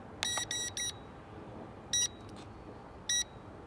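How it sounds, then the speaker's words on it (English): An Eachine E511S drone sounds out-of-range warning beeps in short bursts, a quick group of three followed by two single beeps, clear and high-pitched against a quiet background. "But it just started beeping at me."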